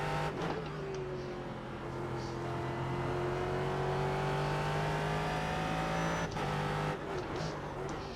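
A race car engine in the iRacing sim-racing game drones steadily with smooth pitch swells as the car runs in fourth gear through a turn, heard fairly quietly with brief dips in the engine note.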